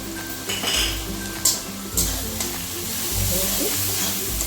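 Turmeric, chilli and coriander powders stir-fried in a pan for doi katla fish curry, with repeated scraping and clinking of a metal spatula against the pan over a light sizzle, close and busy.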